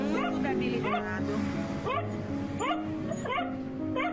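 Two starving, emaciated dogs behind bars whimpering and yipping, with repeated high rising whines and weak barks coming every half second or so, close and loud, over a person's voice talking.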